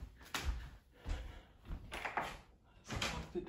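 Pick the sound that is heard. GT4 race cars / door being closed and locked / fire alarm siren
door being closed and locked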